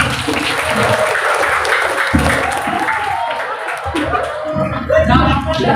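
An audience at an organizational gathering breaks into loud, continuous clapping mixed with crowd chatter and some laughter, with voices talking over the applause throughout.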